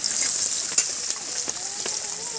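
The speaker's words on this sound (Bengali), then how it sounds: "এবার কিছুক্ষণ পেঁয়াজটা ভেজে নেবো" Onions and a green chili frying in a pan for a rohu fish kalia, a steady close crackling sizzle throughout with a few sharper pops and faint stirring, no talking.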